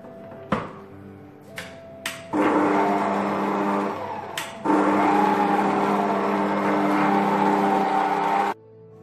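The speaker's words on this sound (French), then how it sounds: "Et je vais mélanger le tout à faible vitesse." An electric mixer beats chocolate cake batter with cocoa powder and yeast at low speed: a few brief starts, then two sustained loud whirring runs with a steady motor tone, cut off abruptly, with no talking.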